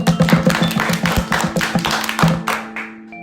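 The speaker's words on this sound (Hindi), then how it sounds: "हाँ तो बच्चा लोग, बजाओ ताली।" Children clap in a dense, uneven patter during a school puppet-show performance, loud and close, tapering off near the end.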